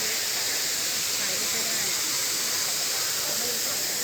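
Steady broadband rush of a waterfall inside a jungle-themed cafe, constant and fairly loud throughout with no clear voices.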